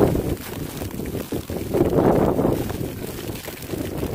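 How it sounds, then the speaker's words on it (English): Strong wind during a heavy Toronto snowstorm roars steadily and closely against the microphone, a continuous buffeting rush with no voices. "So you can hear the wind, right? So the wind plus the snow, massive."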